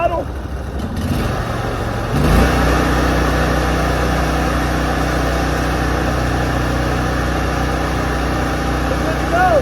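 A pressure washer engine runs loud and close with a steady low drone, its pitch lifting slightly as the throttle comes up after a brief clunk near the start.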